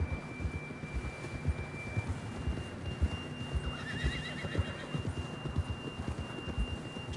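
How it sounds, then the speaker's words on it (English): A horse in Red Dead Redemption 2 gives one wavering whinny midway through. Quiet clip-clop hoofbeats and a soft wash of rain continue underneath throughout. "John was riding that horse when we left Blackwater."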